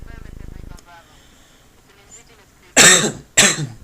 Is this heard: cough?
yes